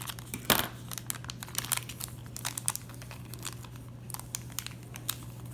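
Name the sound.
package being ripped open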